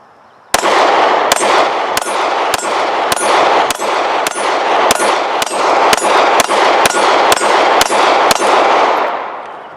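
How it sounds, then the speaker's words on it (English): Rapid series of about fifteen sharp, loud pistol shots from an HK VP9, fired at a steady pace, each crack ringing with a metallic clang, with no talking. "So let's put some more rounds through this."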